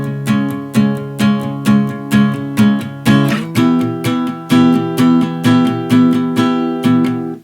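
A repeated chord pattern from Splatoon 3's Side Order music shifts from C sharp minor up three semitones to E minor partway through, each evenly spaced stab decaying before the next, played alone.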